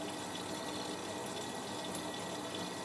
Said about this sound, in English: all Miele's have the same filling sound. They all sound like that when they fill.